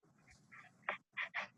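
A pet dog in a quiet home makes a few short, faint yips and whimpering squeaks in quick succession, separated by brief gaps.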